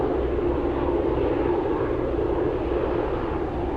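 An Ilyushin IL-96 airliner at an airport produces a steady, broad jet roar heard from a distance, constant and unbroken over a few seconds.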